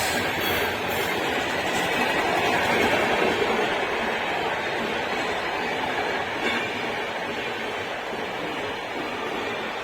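An express train rushes past at a rural crossing in Tamil Nadu, a loud, steady broadband roar of rail noise lasting throughout with no pause, heard close and alone.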